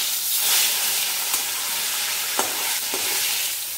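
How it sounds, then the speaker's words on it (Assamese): Pieces of fish frying in hot oil for a fish kalia, a steady loud sizzle throughout with a few brief sharp crackles and pops near the middle and end. "তেল গৰম হ'ল, ইয়াতে এতিয়া মই মাছ পিচ দি দিম।"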